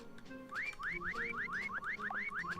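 Someone whistles in the hide-and-seek game Meccha Chameleon, a run of about a dozen quick rising whistle notes in steady rhythm, fairly loud over a low background hum, with no talk.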